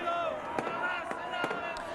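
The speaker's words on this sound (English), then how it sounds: "A firework display also took place" New Year fireworks display at a crowded street celebration, with several sharp bangs and crackles popping through a steady roar of crowd noise and voices.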